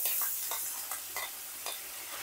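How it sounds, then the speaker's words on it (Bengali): Chopped onion frying in mustard oil in a pan, a soft steady sizzle with brief stirring scrapes recurring every half second or so, close and fairly quiet. "পেঁয়াজটাকে এবার একটু ভেজে নিচ্ছি, ভালো করে একটু ভেজে নেব"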